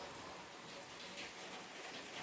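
Steady rain falls in a vegetable garden with tomato plants, a soft continuous hiss of drops on leaves and ground at low level, with no other clear sounds.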